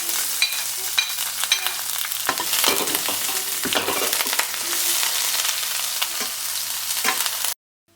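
Garlic, onion and green chilli sauté in a pan for a spinach side dish: a dense, close sizzle with frequent scraping stirs, continuing until an abrupt cut to silence near the end.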